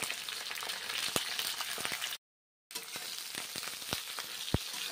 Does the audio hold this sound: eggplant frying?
yes